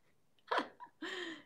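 A short burp-like gulp followed by a longer, voiced belch, both close and faint in an otherwise quiet room, with no talking over them.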